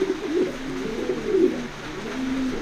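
A racing pigeon from a top breeding pair at a racing loft coos in repeated soft, throaty phrases, close and fairly clear, with no talking.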